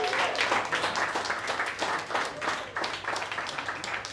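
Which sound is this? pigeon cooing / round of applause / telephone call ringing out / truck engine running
round of applause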